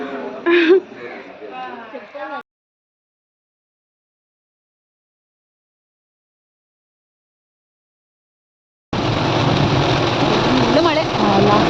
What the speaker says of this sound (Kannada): ಮತ್ತೆ ಮಳೆ ಸ್ಟಾರ್ಟ್ ಆಗಿ ಹೋಯಿತು